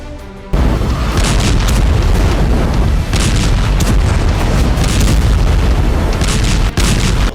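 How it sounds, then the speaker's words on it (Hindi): An Israeli missile air strike explodes in Gaza with a sudden, very loud boom whose roar then sustains heavily for several seconds. "इजराइल की एक मिसाइल उनसे कुछ ही दूरी पर आकर गिरी"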